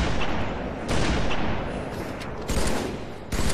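Rapid gunfire from the Halo 3 video game in a multiplayer match, with dense bursts of shots and booming blasts that crowd together loudly and almost continuously, rising in fresh bursts toward the end.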